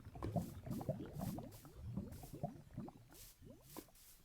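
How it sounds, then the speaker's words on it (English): Lava bubbling in Minecraft at the edge of an alpine biome, heard as continuous low, wet blooping and popping with overlapping glugs, fairly steady and close, no talking. "And I hear lava bubbling."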